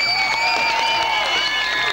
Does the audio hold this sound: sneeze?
no